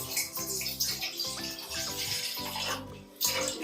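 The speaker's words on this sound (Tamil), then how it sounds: "ஃபர்ஸ்ட் நம்ம ஒரு 2 கிளாஸ் தண்ணி வந்து ஊத்திக்கலாம்." Two glasses of water poured into a pot while making homemade jelly, a splashing, gurgling pour in uneven bursts with brief pauses, close and moderately quiet, no talking.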